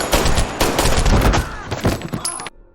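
A film shootout plays out as rapid bursts of loud gunfire, dense overlapping shots crackling for a couple of seconds before cutting abruptly to near silence.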